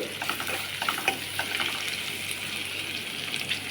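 Onion, dried red chillies and garlic fry in hot oil for a Telugu dried fish and brinjal curry, giving a steady close crackling sizzle with light stirring scrapes and small pops throughout, no talk.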